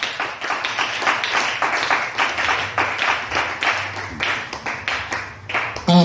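A church congregation claps to acclaim the Lord, producing a steady run of rhythmic, fairly close handclaps that carry on throughout with a lively, even pulse.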